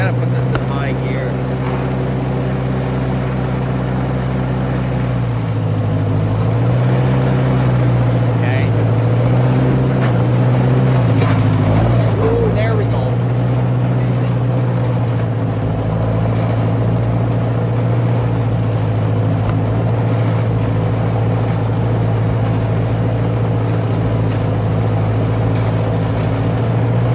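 Massey 50 tractor running in high gear while hauling wood with a three-point hitch loader, a loud continuous engine drone with a shifting pitch, someone talking intermittently over it.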